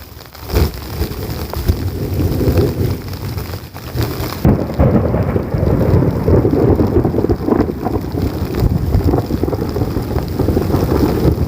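Monsoon rain pours steadily amid gusty wind, with deep rumbling thunder rolling through and a sharp crack partway in.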